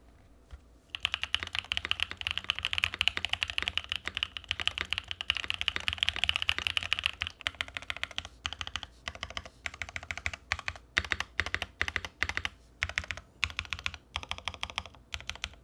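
Rapid typing on a Bauer mechanical keyboard, a dense run of deep, low-toned thocky keystrokes close up, heavy at first and then thinning into irregular taps and pauses, with no talking.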